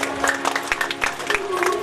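Audience applause greets honoured guests at a Bhagwat katha religious gathering near a Hanuman temple, a steady patter of many hands clapping close by for under two seconds.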